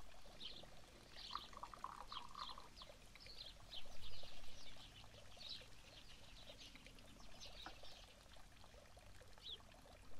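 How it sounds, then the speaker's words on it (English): Simmering water is poured into a tea bowl during a tea ceremony, a faint, soft trickle under quiet room ambience with small bird-like chirps scattered throughout. "The host pours simmering water into the bowl."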